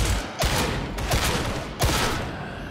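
Loud bursts of automatic gunfire in Warhammer 40K Darktide, three or four rapid volleys in quick succession, close and heavy with booming low ends.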